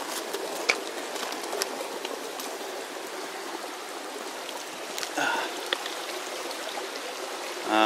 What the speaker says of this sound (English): we've been coming up on these streams, really nice streams.